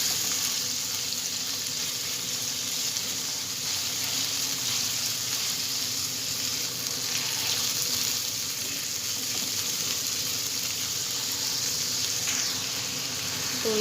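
Chicken sizzles and fries steadily in a pan while being stirred, a loud continuous crackle with occasional scraping throughout.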